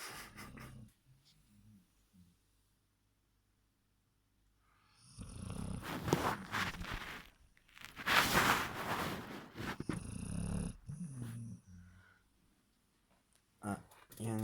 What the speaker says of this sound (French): même quand t'es réveillé tu ronfles de toute façon alors